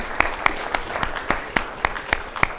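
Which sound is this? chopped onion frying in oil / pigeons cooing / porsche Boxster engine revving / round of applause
round of applause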